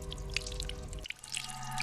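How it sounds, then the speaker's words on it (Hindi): Water drips and trickles steadily, close by, with small bright plinks over a low running wash; no voices. "बाथरूम में पानी बहने की आवाज आ रही है।"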